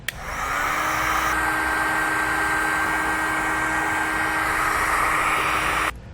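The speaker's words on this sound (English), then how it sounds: "Now we'll use our heat gun to shrink down the connectors." A heat gun shrinks wire connectors on a tail light wiring kit. It clicks on and blows a steady, loud, close whooshing roar for about five seconds, then cuts off.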